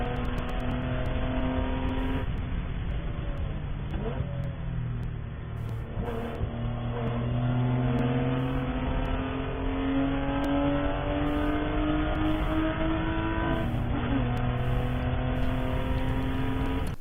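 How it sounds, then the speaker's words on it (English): ChampCar endurance race car at Watkins Glen, heard from inside, its engine droning loud and continuous as revs rise and fall through gear changes, with no talking. "Car sounds really good."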